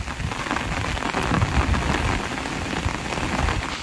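Heavy rain pours over a flooded village, a loud, unbroken roar of drops striking water and surfaces, with no voices.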